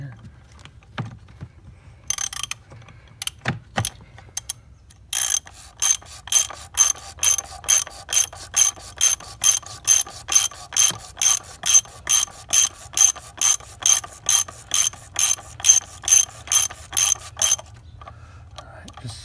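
Ratchet wrench snugging down a bolt on a 2016 Range Rover TD6, a few scattered clicks then a long even run of loud, close ratcheting strokes in steady rhythm before stopping.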